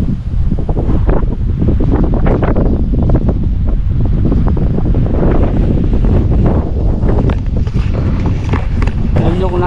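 Strong gusty wind on Mt. Balagbag buffets the microphone in heavy, roaring bursts, loud and close, with a voice faintly mixed in.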